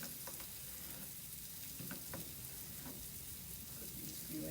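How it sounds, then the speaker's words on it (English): Chopped vegetables sizzle in a hot pan on the stove for Brazilian black beans and sausage, a steady close frying hiss with a few soft clinks and stirring knocks, no talking. "I'm just gonna chop them up. I'm gonna saute these."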